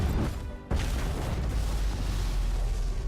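Mech core meltdown explosion in the tactical game Phantom Brigade: a sharp burst after a brief lull, then a dense, rumbling roar that keeps churning at steady loudness with heavy low end.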